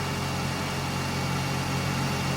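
A Pontiac Vibe or Toyota Matrix engine idles steadily while its A/C system is being recharged, a continuous low hum and mechanical drone holding even throughout with no talk.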